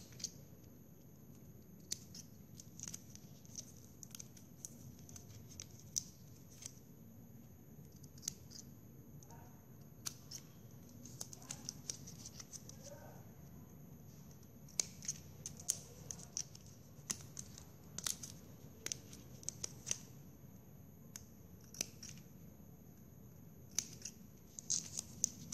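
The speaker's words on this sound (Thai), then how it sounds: "ก็ดันอันล่างนะคะลงไปแบบนี้แล้วก็ตัดให้เป็นปลายแหลมๆค่ะ" Scissors snipping plastic drinking straws into pointed tips for a straw flower craft, a long run of small quiet clicks and cuts at irregular intervals over a steady faint background hum, with no talking.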